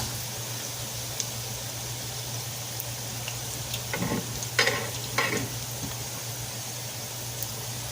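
Wonton-wrapped jalapeno poppers deep-frying in a wok, a steady close crackling sizzle over a low hum, with a few brief clinks and stirring splashes in the middle.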